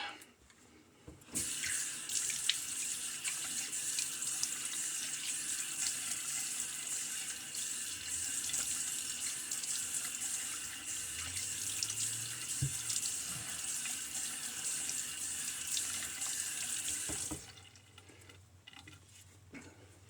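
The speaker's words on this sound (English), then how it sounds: "So let me go ahead and get a quick rinse." Water runs steadily from a tap into a sink for a quick rinse, a constant hiss that starts abruptly and stops near the end, close and clear.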